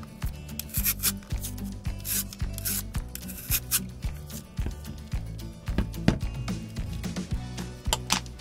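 Magic Trio peeler slicing butternut squash into julienne strips, a close, steady run of rhythmic scraping strokes with crisp cutting rasps, repeating evenly throughout without talk.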